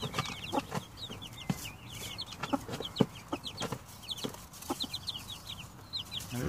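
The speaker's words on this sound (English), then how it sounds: "these are the chicks which were born in the, I think, 18 or 17 of the April." Young chicks about three weeks old peep rapidly and continuously, high and close, with soft low clucks and bumps scattered underneath.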